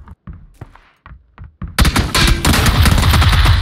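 Rapid automatic gunfire from the game PUBG, a loud dense burst that starts partway through and keeps going to the end, following a few short sharp shots.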